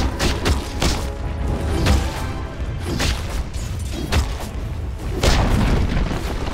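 A tower crashes down in a Dota 2 match, heavy booms and thuds repeating through the game's clatter, loud and close with several strong impacts spread across the moment.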